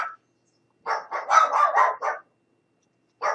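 Pet dogs bark excitedly indoors at close range: a rapid run of loud barks in the middle, with a single bark at each end.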